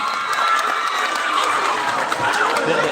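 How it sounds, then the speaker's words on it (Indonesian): A talk show audience of young people claps and cheers loudly, with scattered shouts and excited chatter mixed into the steady applause. "Kita beri tepuk tangan sekali lagi untuk hari ini ya."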